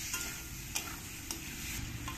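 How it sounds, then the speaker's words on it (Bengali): Shrimp frying briefly in a pan, a soft continuous sizzle broken by a few quick spatula scrapes at regular intervals, fairly quiet and close, no talk. "বেশি ভাজা যাবে না, বেশি ভাজলে চিংড়িগুলো শক্ত হয়ে যাবে।"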